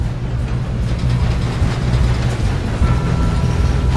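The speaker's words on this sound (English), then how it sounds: "We have to stop this train." Train running in Red Dead Redemption 2, a continuous loud low rumble of rolling rail cars and machinery with steady mechanical texture throughout, no talking.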